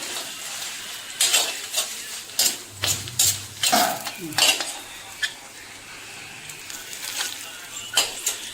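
Dried red chilies fry in a pan with a spoon scraping and clinking through them, sharp irregular stirring strokes over a faint low sizzle, close and alone with no talk.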